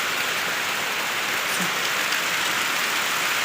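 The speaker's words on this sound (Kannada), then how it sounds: "ಜೋರು ಮಳೆ ಬರ್ತಿದೆ" Heavy rain pours down steadily, a dense continuous hiss of drops hitting surfaces, with no voices.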